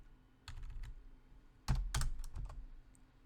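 Computer keys clatter in short bursts of quick taps with pauses between, close and fairly quiet, no voices.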